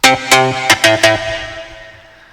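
A bright synth pluck plays a quick run of five notes, soaked in reverb and delay so the final note rings out and fades slowly.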